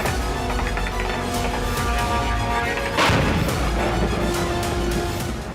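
Strikes on Crimea at night, with a continuous rumbling din and a heavier blast near the middle that is followed by crackling and scattered pops. No one speaks.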